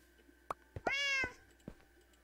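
A single Minecraft cat gives a clear rising-falling meow, near and moderately loud, among scattered soft game clicks and thumps.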